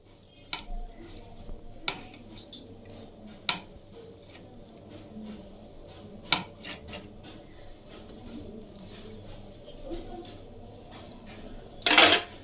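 A spoon stirs fried vegetables into a pot of nearly cooked rice and dal for Gobindobhog khichuri, with sparse, faint clinks and scrapes against the pot and a louder scraping burst near the end.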